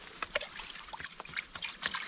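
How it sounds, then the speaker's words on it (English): Water trickles quietly through a small stream in dense woods, faint irregular drips and gurgles sounding close but soft, with no voices. "sometimes you can hear it you know, sort of trickling through"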